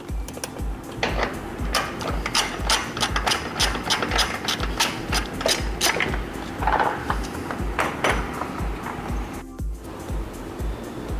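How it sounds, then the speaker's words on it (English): A ratchet wrench removes a 10mm bolt from a Toyota GR86 during a front splitter install, a rapid, steady series of close mechanical clicks with small metallic clanks and knocks along the way. "There's this 10mm bolt in the middle, taking that off."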